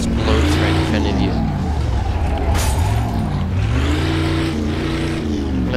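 Car engine in Mafia II held near maximum revs, a loud continuous droning whine with rising and falling harmonics, close and sustained for several seconds.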